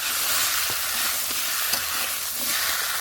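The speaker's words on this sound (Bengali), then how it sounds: "সবজিটা ওদিকে কষাই হতে দিয়েছে" Vegetables seasoned with salt and turmeric sizzle steadily in a pan, a dense continuous hiss with a few soft stirring scrapes, close and fairly loud, no voices.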